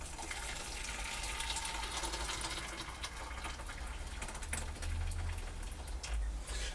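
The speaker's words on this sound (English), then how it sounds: "I'm just going to pour some boiling water in." Boiling water pours steadily into a pan holding apple juice for a pear cider brew, a close, continuous gushing splash with no voices.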